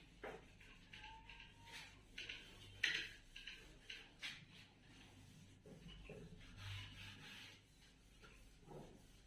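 A duster or cloth rubs writing off a classroom board during a maths lesson, giving a series of soft, irregular scrubbing strokes at close range with brief pauses between them and no talk.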